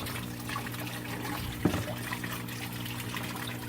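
Water trickles and splashes steadily through an aquarium sump filter in an old Marineland Tide Pool with polyfill media in the top tray, a constant close wash with one brief knock midway.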